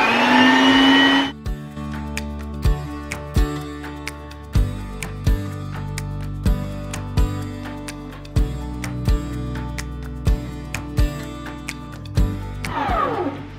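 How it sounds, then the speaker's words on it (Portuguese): An electric hand mixer whips chocolate mousse, its steady motor whir running throughout with repeated sharp knocks as the beaters tap the bowl, with a brief higher whine at the start and end. "E agora vou levar ali à batedeira e deixar bater até fazer uma espuminha."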